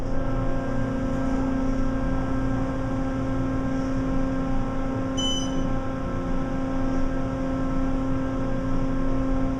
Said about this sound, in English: that fan's too loud